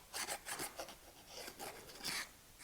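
A file lightly abrades a leather shoe in short, quiet rhythmic strokes, several rasping passes in quick succession, close and soft with no talking.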